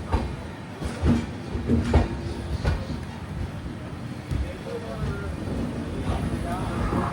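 Inside a sleeper-class coach of the moving Mangala Lakshadweep Express, a steady rumble of wheels and wind fills the space with occasional clanks and knocks, no voices heard.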